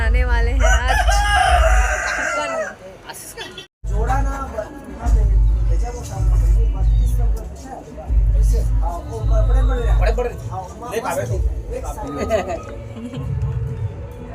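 Chickens and a rooster crowing and clucking at a home keeping hens for a holiday meal, loud and close, with a steady hum of people talking in the background throughout.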